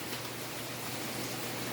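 Heavy rain pours steadily onto a backyard patio on a rainy day, a dense, unbroken hiss that stays loud and even throughout with no voices.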